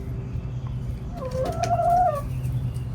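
A chicken lets out a short, rising cluck-like call close by over a low background rumble, a single vocal burst in an otherwise quiet yard.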